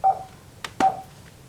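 An internet connection restores itself with two short electronic beeps, close and clear in a quiet room, separated by a soft click.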